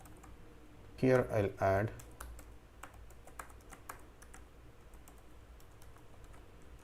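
Keys clatter on a computer keyboard as login credentials are typed, a quick run of light close clicks that follows a short spoken phrase.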